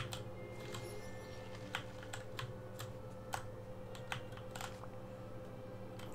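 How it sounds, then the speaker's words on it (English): Rapid typing on a loud, clicky computer keyboard, a crisp, irregular patter of close keystrokes with a few heavier clacks, heard alone over a low background hum. "Sorry that you have to hear my clicky-clacky keyboard"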